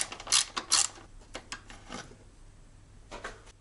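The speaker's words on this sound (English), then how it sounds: "The next step is removing this 10mm bolt near the throttle body." Ratchet wrench with a 10mm socket loosening a bolt near the throttle body of a 1990s Mazda MX-5 NA Miata engine, a few quick clicking bursts, loudest early, then softer scattered clicks, close and alone.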